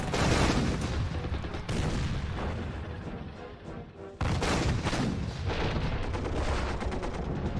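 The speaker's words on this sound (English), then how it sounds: "They're shooting and shooting" Gunfire in the OpenGeneral war game, set in the Polish-Bolshevik war of 1919-20 at Daugavpils: loud, dense volleys of shots and booming artillery in two long bursts, split by a brief dip around the midpoint.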